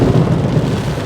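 A crack of thunder during a mountain thunderstorm on hairpin roads, a loud, dense, sustained rumble filling the brief moment, with rain mixed in.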